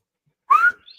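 A charged-up whistle gives one short, loud blast that sweeps upward in pitch, followed by a fainter, thinner trailing tone.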